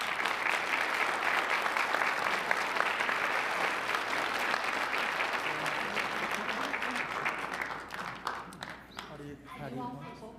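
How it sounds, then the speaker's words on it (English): Audience at a city council meeting applauds tutors with sustained, dense clapping that fades toward the end as a few voices start speaking. "just one more round of applause for our amazing tutors."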